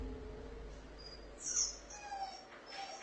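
A puppy whimpers in a brief high-pitched cry at a moderate distance over a steady low hum, followed by faint squeaky whines.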